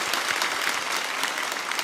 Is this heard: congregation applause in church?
yes